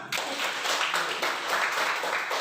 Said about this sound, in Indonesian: Baik, kita tepuk tangan.